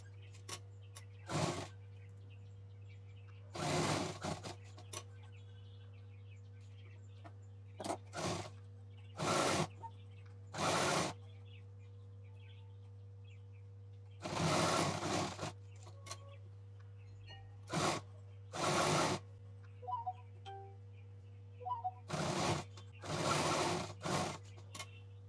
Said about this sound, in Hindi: यहाँ पे डबल मशीन चलाएंगे, पूरा सिल के आएंगे